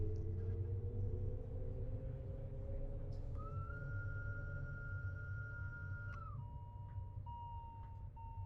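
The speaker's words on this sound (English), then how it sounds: "Whistle as I pull away, and then another whistle as I pass this signal." A Swiss Bernina Line train whistles in Train Sim World 4: a long steady tone sounds over the low engine rumble, and a second, lower whistle follows as the train moves off.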